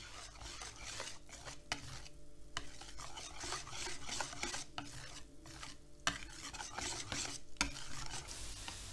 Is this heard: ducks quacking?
no